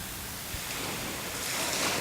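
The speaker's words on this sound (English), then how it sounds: "you can listen to the waves coming in" Ocean waves coming in on a shore, a soft, continuous broadband wash of surf heard from a distance at low volume, without any talk.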